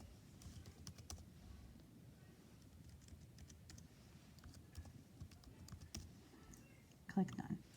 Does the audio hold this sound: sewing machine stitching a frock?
no